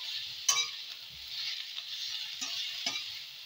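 Bengali radish curry stirred in a pan over a gentle, steady sizzle, with a few distinct spatula knocks and scrapes.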